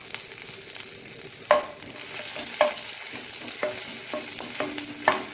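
Onion and garlic sautéing in oil for Mangalorean-style pathrode masala: a continuous close sizzle broken by several sharp scrapes and taps of a spatula stirring the pan.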